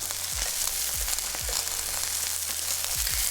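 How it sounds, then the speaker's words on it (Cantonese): Steady bright sizzle of a steak's edge searing in a hot oiled frying pan, continuous crackling spatter with a few low thumps, close and unbroken with no talk over it. "We'll repeat the edge searing step with the second steak."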